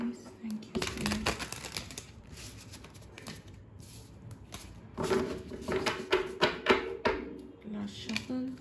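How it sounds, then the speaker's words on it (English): A tarot card deck is shuffled up close in two busy spells of rapid, papery riffling and tapping, with a quieter pause between them. "Last shuffle."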